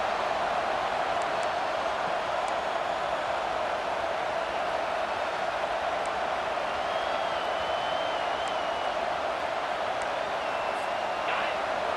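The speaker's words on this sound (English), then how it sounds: "This crowd bringing the energy and noise early." Steady roar of a college football stadium crowd, a dense continuous wash of cheering and noise at constant loudness with faint whistles, heard from a distance throughout.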